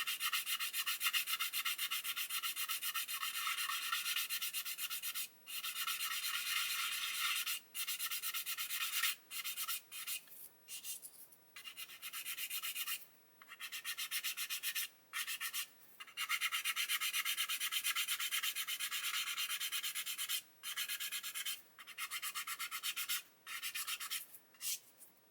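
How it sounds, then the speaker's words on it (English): Sandpaper rubs over filled holes on a plastic 1/48 Airfix Spitfire Mk.XII model in steady close strokes, broken by brief pauses, quiet and alone. "As you can see, it's only sanding off the raised circular part."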